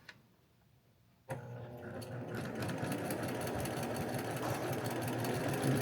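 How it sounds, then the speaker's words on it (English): A sewing machine stitches binding onto a quilt, starting abruptly after a quiet moment and then running in a fast, continuous mechanical whir close by, with its rapid needle rhythm holding steady. "I'm going to sew it straight on down."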